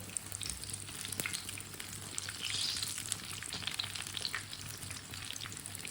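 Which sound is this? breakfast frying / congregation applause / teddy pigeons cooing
breakfast frying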